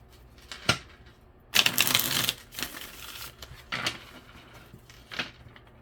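Tarot cards are shuffled by hand in a quiet room: a few short riffling bursts with one longer flurry, close and fairly soft, with no talk.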